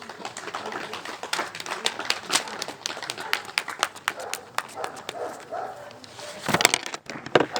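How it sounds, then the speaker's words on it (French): An audience at a political gathering in Benin claps for the president, with scattered sharp hand claps from a crowd and a louder burst near the end, amid faint background voices. "Accompagnez le président avec des acclamations"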